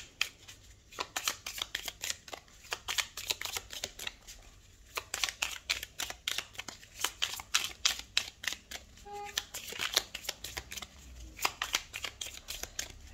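Oracle cards riffled and shuffled by hand, then drawn, a series of quick papery flutters and crisp snaps in bursts with short pauses between, close up and fairly quiet.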